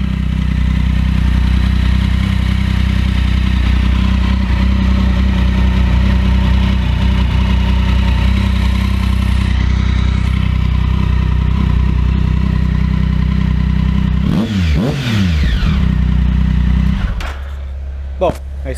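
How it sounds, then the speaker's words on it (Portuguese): Motorcycle engines, a Honda CB1300 among them, warm up at idle in a workshop, a steady close-up drone that runs unbroken before dropping away near the end. "Estou aquecendo o motor dela para medir o nível"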